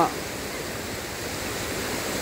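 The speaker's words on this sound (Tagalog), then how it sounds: "Dito tayo ngayon sa Sapa, Ilog. Napakalamig itong tubig." A cold river stream flows in a steady, broad rush of water that stays even and close throughout, with no pauses or other sounds standing out.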